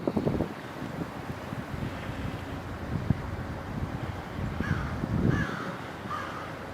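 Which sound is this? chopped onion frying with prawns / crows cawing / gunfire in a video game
crows cawing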